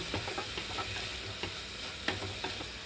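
Pieces of ridge gourd fry in a pan with a steady, close sizzle, broken by occasional sharper crackles and soft stirring knocks, with no talking.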